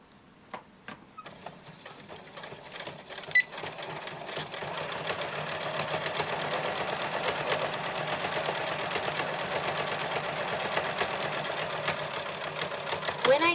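A sewing machine runs steadily while stitching a cardigan band seam, its close, continuous whirring hum building slightly louder over the stretch after a few halting starts.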